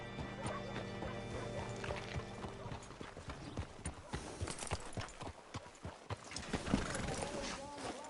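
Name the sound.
horse hooves in a video game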